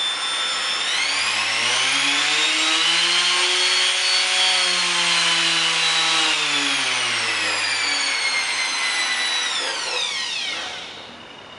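A Makita BO5031 random orbital sander whirs up to a steady, loud whine, its pitch rising and holding before winding down as it switches off.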